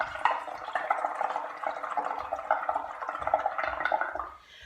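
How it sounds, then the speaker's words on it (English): Bubbling liquid from air blown through a straw into a bowl of water mixed with washing-up liquid, a steady gurgling burble that runs for several seconds before trailing off. "So water in a bowl with sunlight liquid and a straw and basically just blowing"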